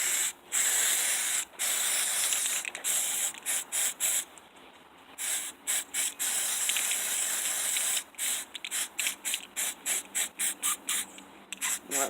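A spray paint can hisses in repeated bursts onto an old Coke bottle, long sprays followed by quicker short puffs with brief pauses between, close and alone.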